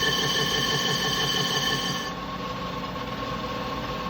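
A metal lathe turning at 365 RPM, cutting steady with an ISCAR carbide insert, gives off a loud, continuous whine with strong sustained tones that drop slightly in level partway through as the cut eases.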